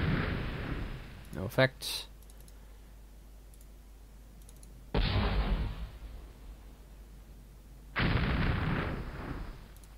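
Cannon fire in Battleground: Antietam, a Civil War strategy game: several deep artillery booms at intervals, each rolling out in a long rumbling decay, with a few sharp interface clicks and a voice talking briefly between the blasts.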